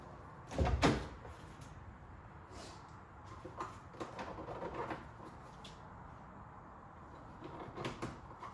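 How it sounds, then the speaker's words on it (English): Interior door card being pried off a Range Rover Classic: a sharp plastic clip pop and knock near the start, then scattered faint creaks, taps and rustles as the trim panel is worked loose. "Let's get the other door card off."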